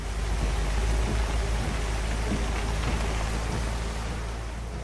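Rain falls steadily at night by a roadside motel, a dense, even hiss of drops that holds at a constant level with no voices.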